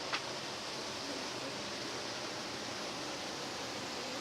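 Hotnitsa waterfall in the Bulgarian mountains, a steady broadband rush of falling water, constant and fairly soft, with no voices and only a brief click near the start.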